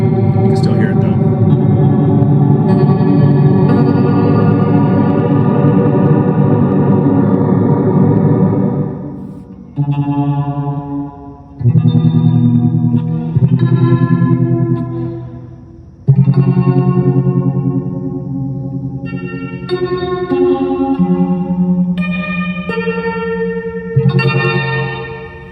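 Electric guitar through a Hue multi-effect pedal set to heavy reverb with tremolo: sustained chords pulse and wash together, with several struck chords separated by brief decays, loud and close.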